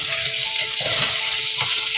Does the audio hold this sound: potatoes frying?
yes